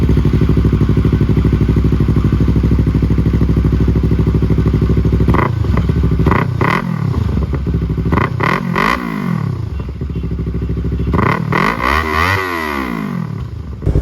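Yamaha R3 motorcycle with stage 1 performance mods, its exhaust idling steadily and loud up close, then blipped into several sharp revs that rise and fall, the last one longer and held.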